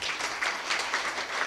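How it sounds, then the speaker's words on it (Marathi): An audience claps together at a devotional kirtan in Paparde, with dense, steady applause that swells in faint waves throughout and no talking. "ह्याच्यासाठी एक बार टाळ्या वाजवा"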